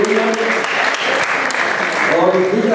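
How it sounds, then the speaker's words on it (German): Audience at a Men's Physique bodybuilding final, a newcomer championship, claps loudly and steadily for the athletes on stage, with crowd voices and cheers mixed into the continuous applause. "Einen riesen Applaus an die Jungs."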